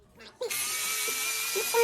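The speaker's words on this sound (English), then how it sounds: "we've got 4 screws in here to undo, so we'll take those apart next" An electric driver whirs steadily and close while undoing screws on an ARRMA Typhon RC car chassis, starting abruptly after a brief voice and continuing as a high buzzing drone.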